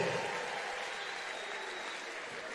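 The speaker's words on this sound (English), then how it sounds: "And Leah Boston gets a nice round of applause from a great group of fans" Basketball fans at a women's college tournament in the Bahamas give a warm round of applause, a continuous crowd clapping heard from a distance with arena ambience and faint commentary over it.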